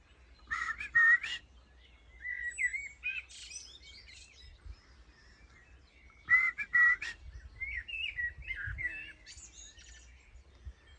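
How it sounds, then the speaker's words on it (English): A blackbird answers a person's calls nearby with bursts of whistled, warbling song phrases and chirps, two main phrases several seconds apart, clear and close over quiet outdoor background. "this next bit that I've added on here is actually this same bird having a conversation with me."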